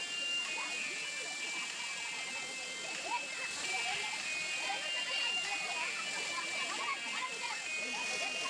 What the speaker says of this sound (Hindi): सबको हटाकर मैं अब झरने के करीब आया हूँ।